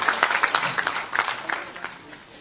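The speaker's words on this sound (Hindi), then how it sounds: "एक बार चाहूंगा कि जोरदार तालियों से सभी हमारे सम्मानित अतिथियों का आप लोग सम्मान करें" An audience at a formal gathering claps for honoured guests, a brief patter of many hands that starts brisk and thins out, with some voices mixed in.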